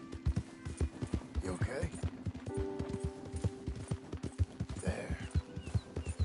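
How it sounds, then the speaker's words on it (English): Horse hooves clip-clop in a steady walking rhythm in a PS4 game, close and clear, while someone talks gently over the hoofbeats. "Ain't you a good horse?"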